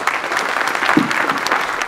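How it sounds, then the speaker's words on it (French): An audience of mayors at the 2023 congress in Alpe d'Huez claps loudly and steadily for Laurent Wauquiez's speech, a dense burst of applause heard close. "Son discours encourageant a particulièrement été applaudi"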